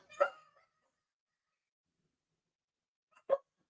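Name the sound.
dogs barking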